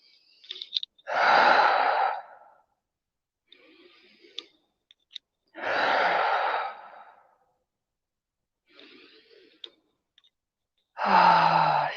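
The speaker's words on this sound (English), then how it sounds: "I'm going to take 3 deep breaths, in through the nose, out through the mouth" Three slow, deep breaths, each drawn in through the nose and then released through the mouth as a long, audible sigh. The breaths come at steady intervals in a quiet room, with faint clicks between them.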